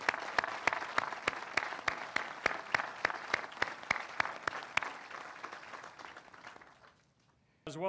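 A crowd claps at a 101st Airborne Division change of command ceremony. Sharp, evenly spaced claps keep a strong beat over a bed of general applause, then thin out and fade to near silence at the end.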